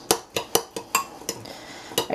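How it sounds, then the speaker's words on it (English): A utensil stirs a bowl of guacamole ingredients, producing about eight sharp clinks and taps against the side in a quick, uneven rhythm, close and clear with no talking. "let me just give this a nice stir"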